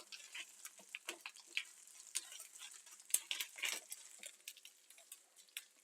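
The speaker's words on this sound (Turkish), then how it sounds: "Salçamın kokusu geçene kadar bir 1-2 dakika şöyle yağda kavuracağım." Tomato paste fries in oil in a pan, giving a faint, crackly patter with soft bursts of sizzle and occasional stirring scrapes, close but quiet and without speech.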